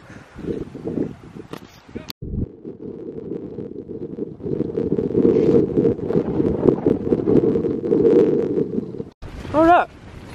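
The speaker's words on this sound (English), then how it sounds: "Oh look, the wind's back." Wind rumbles hard against the microphone at a solo campsite in Cornwall, a dense low roar that holds for several seconds and then cuts off, with brief knocks and handling noise around it.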